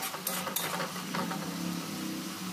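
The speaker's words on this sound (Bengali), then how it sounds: "মশলার গন্ধটা যেন চলে যায় ততক্ষণ নাড়াচাড়া করতে হবে।" Spice masala stirred and frying in a pan for lentils with bottle gourd, a steady low sizzle with scraping stir strokes and a few light metallic clinks, close and continuous.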